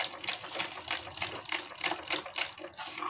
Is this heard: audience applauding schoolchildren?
no